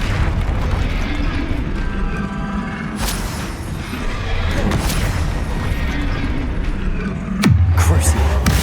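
Spell blasts in the video game Hogwarts Legacy, such as Bombarda and Confringo: heavy booming bursts under constant rumbling battle noise, with a sharp, loud impact near the end, with no voices.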